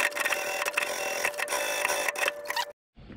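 A sewing machine stitching a custom motorcycle seat at an upholstery shop: steady, rapid mechanical clatter of stitching running nearly continuously, then stopping abruptly before a brief quiet resumption.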